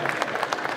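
Audience applause at a cosplay costume contest at a geek convention, a brief burst of brisk, close clapping from a crowd with a murmur of voices.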